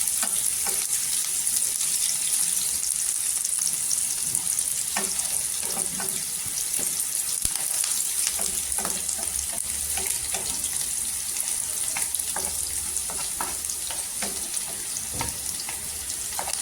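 Chopped onion frying in ghee in a pan for a Marathi potato bhaji, a steady sizzle with a spoon scraping and stirring in repeated clacks, close and continuous with no voices.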